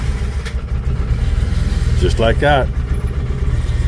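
A Ranger utility vehicle engine, its fuel pump freshly rebuilt, runs at a steady idle close by for the whole stretch, with someone talking briefly over it.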